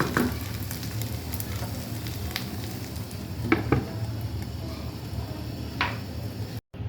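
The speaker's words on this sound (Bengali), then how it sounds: "এখন কিন্তু লো মিডিয়াম দিয়ে 5 থেকে 6 মিনিটের মতো দম দিয়ে রাখবো।" Chicken biryani cooking in a pot on low-medium heat, giving a steady close sizzle and hiss with a few light clicks and taps, fairly quiet and continuous, no talking.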